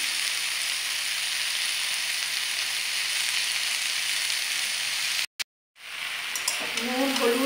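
Vegetables frying with dal, ginger paste, salt and turmeric for a Bengali vegetarian dish, a loud, even hissing sizzle that briefly cuts out, then returns with light rattling and clinks.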